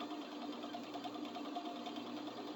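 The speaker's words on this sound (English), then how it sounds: "keeping from stretching the material while you're sewing it" A sewing machine stitches fabric with a steady, continuous mechanical whir, held at an even pace throughout with no voices.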